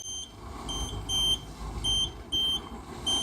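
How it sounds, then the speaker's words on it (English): An electronic CO2 leak detector probes the AC system of a 2017 Chevy Tahoe, giving a repeating series of short, shrill high beeps in an uneven rhythm over a low engine rumble. "Listen to the beeps"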